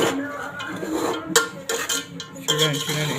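A ladle scrapes and clinks against a cooking pot as rice is stirred and mixed, giving irregular metallic knocks and scrapes up close, with a voice speaking over them.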